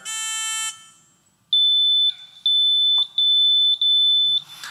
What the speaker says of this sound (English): let's please test our buzzers again from the left side